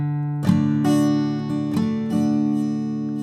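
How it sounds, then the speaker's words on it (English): Fingers pick single notes one at a time on an acoustic guitar in a fingerpicking pattern. Four distinct plucks ring close and warm and overlap as they sustain, with no voice. "And then I'm kind of picking out the other notes one by one with my finger."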